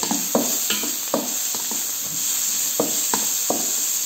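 A pot of calf's feet and tongue is stirred, with a spoon knocking and scraping in a steady irregular rhythm over a constant sizzling hiss.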